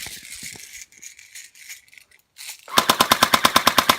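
An airsoft gun fires a rapid, evenly spaced burst of loud, snappy reports, preceded by quieter mechanical rattling and handling noises.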